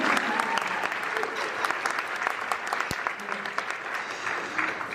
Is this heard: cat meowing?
no